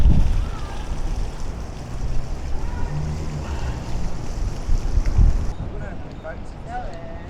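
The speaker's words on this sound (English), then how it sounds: "a little look at Blackpool on a wet Saturday night, wet and windy Saturday night." Wind and rain on a wet Saturday night in Blackpool town centre streets: a continuous, gusting roar of wind buffeting the microphone with steady rushing noise, rising and falling throughout and fading abruptly near the end.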